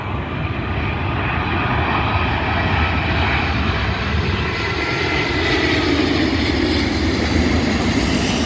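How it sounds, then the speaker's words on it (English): Airbus A380 airliner of Global Airlines, operated by Highfly, arriving at Manchester Airport from New York: a loud, steady jet engine roar with broad rushing noise, sustained throughout with no talk. "Global Airlines A380 operated by Highfly. Coming in from New York"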